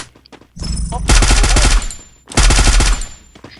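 Bursts of rapid automatic gunfire in the Free Fire video game, two loud sustained volleys with a brief pause between, close and dominant.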